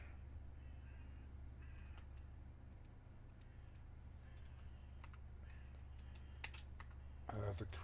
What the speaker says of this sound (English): The crow sounds.